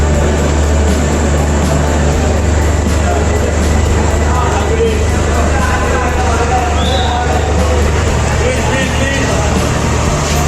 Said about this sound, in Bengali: এই যে 5 নম্বর প্ল্যাটফর্মে আমাদের ট্রেন আসছে